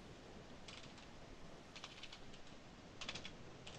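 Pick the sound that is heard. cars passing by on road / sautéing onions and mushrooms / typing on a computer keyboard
typing on a computer keyboard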